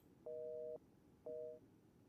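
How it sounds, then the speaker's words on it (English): A telephone ringing in the horror game Resident Evil Village: two clean electronic ring bursts, the first longer than the second, sound alone over quiet background hiss. "And we have to pick up a phone."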